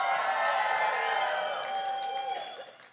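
A crowd cheering and whooping for Rotaract, a dense sustained roar of voices that stays loud for a few seconds before fading at the end.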